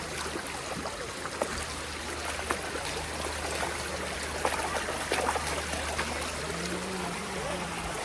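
Spring water flows steadily at David's waterfall in Ein Gedi, a dense, even rush of running water with no voices over it.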